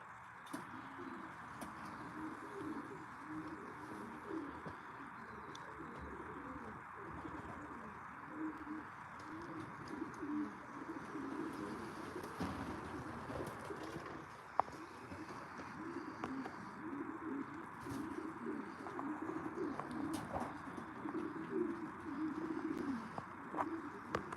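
Racing pigeons cooing softly in a loft, overlapping low murmuring coos that continue for the whole stretch, fairly faint, with occasional light clicks and distant background hum.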